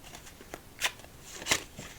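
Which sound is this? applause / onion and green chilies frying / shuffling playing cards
shuffling playing cards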